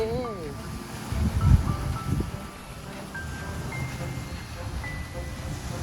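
Sea waves wash in at a beach, a soft surging roar with gusts of wind buffeting the microphone, while people talk nearby over the surf.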